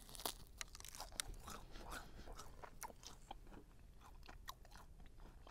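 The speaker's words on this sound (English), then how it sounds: "Look at that snap, that crunch. Can you hear that?" Crispy fried chicken thigh skin and batter crunch under repeated bites and chewing, sharp brittle cracks up close against a quiet background, no talking.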